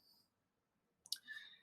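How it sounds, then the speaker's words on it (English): Keys click on a keyboard in a short burst of a few quick taps, preceded by near silence and a faint rustle. "typing all sorts of stuff across the notes here"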